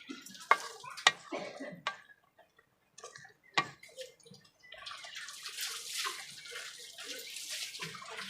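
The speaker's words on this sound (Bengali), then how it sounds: "খাবার সোডাটা দিয়ে নেড়ে নেব শাকটা।" A spoon stirring drumstick leaves with baking soda in a pan, close clinks and scrapes against the metal in the first half, then a wet, hissing churn of the greens that continues to the end.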